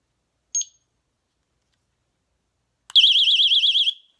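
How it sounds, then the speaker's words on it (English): After a brief chirp and a pause, a home security noise alarm sounds: a rapid warbling high-pitched electronic tone for about a second, alone in silence. "my alarms that I have in the house just went off because, well, it's a noise alarm"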